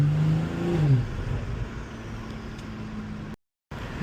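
A BMW M340i's exhaust while driving, a steady low engine drone with a rising rev swell near the start, continuous and close, cut by a brief dropout near the end.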